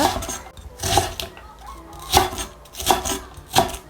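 A knife slicing the white part of a green onion lengthwise on a cutting board, with several rhythmic scraping chops at a steady pace, close and clear, with no speech.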